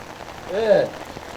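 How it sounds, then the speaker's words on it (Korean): Rain falls steadily on a rally outside Suseo Station during a presidential campaign event, a soft continuous wash with a brief louder swell in the middle. "이 비가 좀 오네. 꿋꿋하게 하겠습니다."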